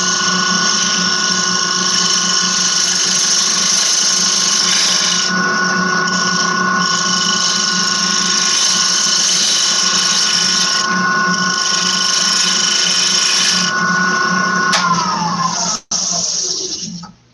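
A wood lathe turning a wooden bowl makes a steady, loud machine whine with high tonal hum, running continuously, then winding down near the end as the spinning slows.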